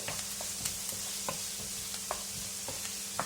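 Onions frying in coconut oil in a pan for mushroom masala, a faint steady sizzle broken by soft irregular clicks of stirring.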